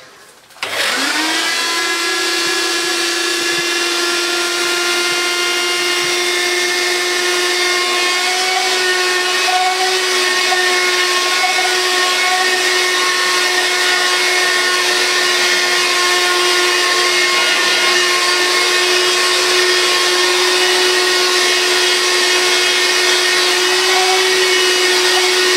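A Bissell Magic Broom sweeper switches on after half a second and then runs with a steady, loud motor whine and airy suction hum. It stays unchanged for about twenty-five seconds, close by, with no talking.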